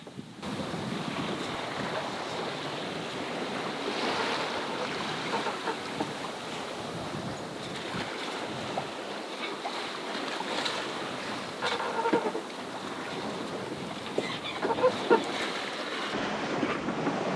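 Continuous wash of ocean waves and water rushing around a moving sailboat offshore, mixed with heavy wind buffeting the microphone, steady and loud throughout.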